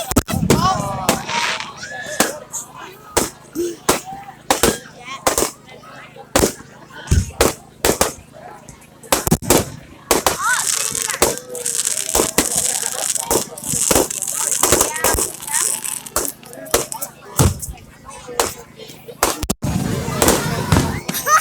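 Fireworks burst at a bonfire night event at a club, a long run of sharp cracks and booms at irregular intervals with crackling in between, and people talking and calling out underneath.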